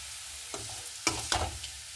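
Bitter gourd frying in a pan, a soft steady sizzle with a few brief stirring scrapes, close and alone.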